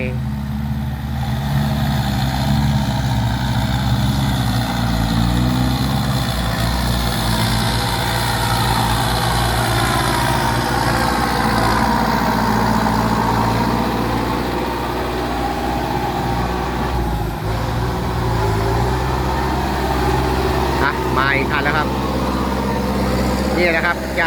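The engine of a six-wheel dump truck crawls in first gear over a rough, cratered road, a steady low diesel rumble that drones throughout while someone talks over it.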